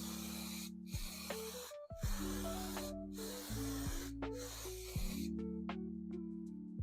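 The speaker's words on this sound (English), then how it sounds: "give it a test spray." An aerosol spray paint can fires several sharp hissing bursts in a rough rhythm of short and long sprays, close and clear with brief pauses between them.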